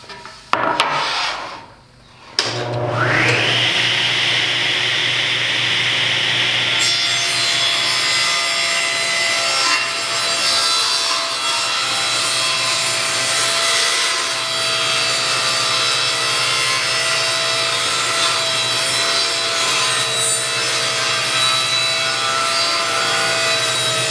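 Circular saw ripping wood into narrow strips to width, a sharp start-up followed by a loud, sustained whining cut with a steady motor drone underneath, heard close and alone.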